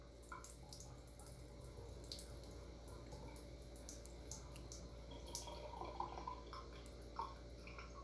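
Water and melting ice pour from a 900 ml double-walled steel thermal cup, a steady close splashing and trickling stream with small drips, heard alone without talk.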